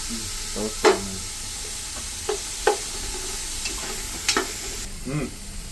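Onion and tomato frying in a pan over low flame for Mangalore-style chicken sukka, a steady sizzle broken by several distinct scraping stirs of a spoon against the pan, close and fairly quiet.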